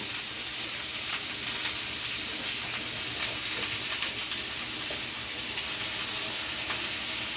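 Pork sizzles loudly and steadily in a hot pan, a dense, continuous hiss of searing meat heard up close with faint occasional clicks.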